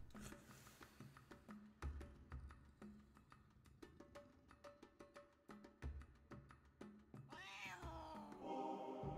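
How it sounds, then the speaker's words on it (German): A cat meows repeatedly in the video game Copycat, clear and close over a rhythmic pattern of soft game footsteps and thuds, ending in a burst of brighter in-game sound. "Die Katze."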